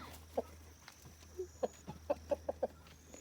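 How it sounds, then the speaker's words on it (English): Chickens cluck in short, separate bursts, a few close together toward the end, over a low steady hum. No one speaks. "Finish feeding the chickens."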